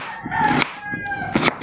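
A rooster crows close by in two loud, drawn-out calls separated by a short pause, with no talk over it.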